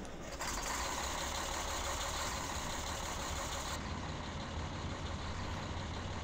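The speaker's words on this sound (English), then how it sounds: "that engine you hear is actually the real recording of this, of the engine itself on the real machine." A recorded diesel engine of a Big Bud tractor in a farming simulator, a steady loud rumbling drone running continuously with a hissing high layer that cuts out partway through.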